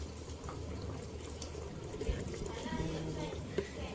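Milk is poured into a pot of rice for nasi daging, a faint, soft, continuous liquid trickle over a low background hum.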